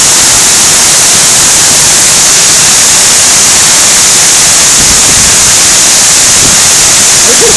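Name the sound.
Benlister Falls waterfall in spate after heavy rain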